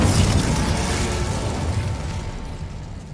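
A burst of the Incendio fire spell in Hogwarts Legacy, a loud whooshing blast with a rumbling low end that starts strong and slowly fades out.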